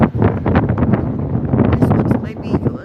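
Strong, cold wind buffets the microphone in a steady low roar at a seaside grand promenade, with a voice talking over it throughout.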